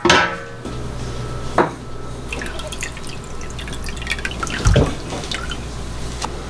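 Whey dripping steadily from goat cheese curds, a continuous patter of drops with a few louder splashes, close by, no talking.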